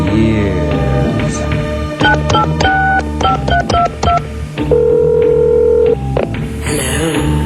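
Telephone keypad tones beeping in quick irregular sequences, followed by a sustained steady dial tone and a ringing burst, loud and close with music-like layering underneath.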